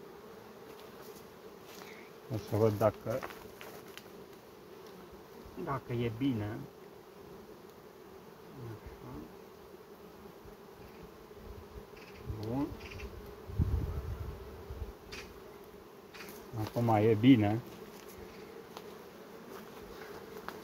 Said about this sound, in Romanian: Albinele vor putea circula pe partea de sus.